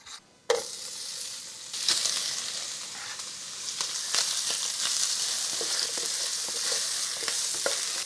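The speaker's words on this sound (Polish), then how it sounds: "Kiełbaska się ładnie smaży" Sausage sizzling in a hot pan, beginning with a sudden crackling burst and settling into a steady spitting fry with scattered pops.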